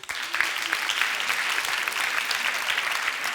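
A comedy club audience bursts into dense, steady applause, many hands clapping loudly and continuously from start to finish with no talking over it.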